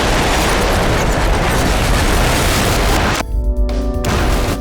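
Demolition charges bring down the conveyors of a coal tower: a loud, sustained roaring blast and rumble fills the opening seconds, then cuts off into a quieter tail of settling debris.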